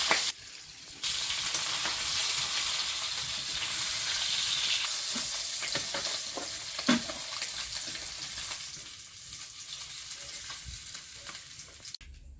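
Singi (stinging catfish) frying in a pan gives a loud, steady, hissing sizzle with occasional crackles, close and continuous, with no talking.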